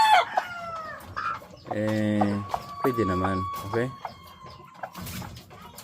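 Breeding hens at Emery Game Farm cluck and a rooster crows in short bursts, close by, while someone talks over and between the calls.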